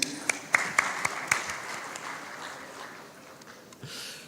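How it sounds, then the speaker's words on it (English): Audience applause at the inaugural session of a media and entertainment industry event, a brief burst of scattered claps near the start that quickly thins into a low, diffuse murmur of hands and room noise. "So round of applause for that"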